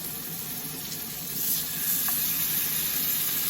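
Thin slices of smoked pork bologna sizzle steadily in a hot pan, a soft continuous frying hiss that swells slightly partway through, with no talking.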